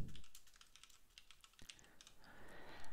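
Rapid, close keystrokes on a computer keyboard while text is written in the Atom editor, a quiet, steady patter of clicks.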